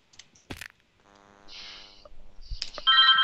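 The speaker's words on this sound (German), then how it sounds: "Telefon." A telephone rings with a bright electronic ringtone, short tonal bursts building into a sustained warbling ring near the end, close and fairly loud amid a few clicks and thumps.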